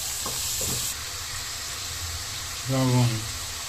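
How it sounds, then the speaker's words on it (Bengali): Ginger garlic paste fries in hot oil for a homestyle chicken roast, a steady close hiss and sizzle throughout, with a brief voice near the end. "আদা রসুনের পেস্ট আমি তেলের সাথে একটু কষিয়ে নিব যাতে ফ্লেভারটা সুন্দর আসে"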